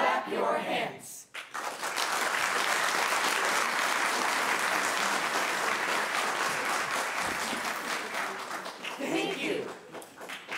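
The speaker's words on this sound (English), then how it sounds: "If you believe, clap your hands." Theatre audience at a high school drama production of Peter Pan claps steadily and loudly for about ten seconds, a dense sustained applause that swells early and fades slightly toward the end.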